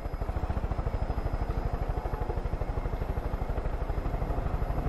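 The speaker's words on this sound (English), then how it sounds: "Park a helicopter just behind this house here." A helicopter in the video game Far Cry 5, heard as a steady, loud rotor chop with fast regular pulses and a droning engine hum that stays constant and close throughout.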